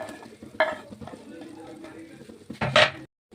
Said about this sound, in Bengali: এবার দিয়ে দেবো কেটে রাখা চিকেনগুলো।